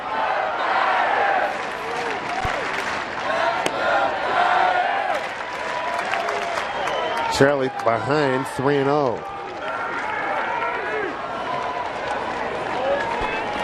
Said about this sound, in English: Yeah, the Giants fans piping up again.